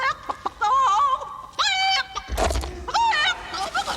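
A chicken clucking in the film Return to Oz, loud near squawks and clucks in short bursts, broken by brief gaps and one low thump.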